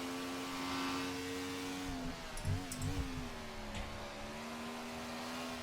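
A 1967-era British Grand Prix racing car engine in the game Assetto Corsa drones steadily, its pitch dipping and wavering midway before settling back into an even, buzzing hum.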